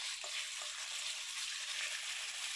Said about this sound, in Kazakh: Бұны қуырған кезде өте көптен салмаңыздар.